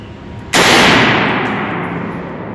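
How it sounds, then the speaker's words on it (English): A single loud G36 rifle shot fired at a target on a range, a sharp close crack followed by a long fading ring, with no talk. "You just shot a bullseye."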